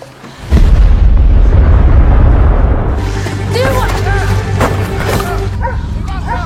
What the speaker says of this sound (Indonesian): ledakan besar pun terjadi dan rupanya Jerman sedang meledakkan dam tersebut.